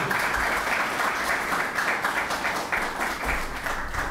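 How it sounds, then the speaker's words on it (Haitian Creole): An audience at a commemorative event claps in sustained applause, a dense, even patter of many hands that holds steady throughout at moderate distance. "Nous avons capable d'applaudir le docteur Watson Denis."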